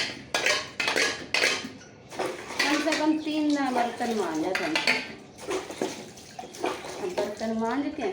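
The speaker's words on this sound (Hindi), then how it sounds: "बर्तन मांज के" Dishes, pots and utensils clatter and scrape while being scrubbed and rinsed with water, with repeated clinks and splashing under steady talk.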